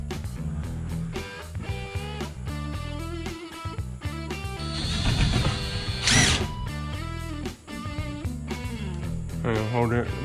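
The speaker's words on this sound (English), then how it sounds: "Let me screw this in." A power drill drives a screw into a shed wall during workshop construction, its motor whine rising in a long burst under steady background noise, with people talking nearby.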